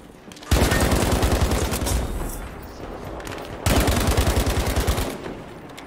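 Automatic gunfire in Battlefield V comes in two loud, sustained bursts of rapid shots, each lasting a few seconds with a short gap between them.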